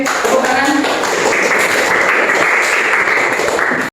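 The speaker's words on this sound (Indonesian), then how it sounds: "Tepuk tangan." A classroom of students claps together during a religious education lesson, a loud, dense burst of hand clapping lasting about four seconds before cutting off abruptly.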